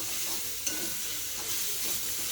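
Green chillies roast in a pan with a steady close hiss and sizzle, a faint spatula stir audible once over the continuous frying noise.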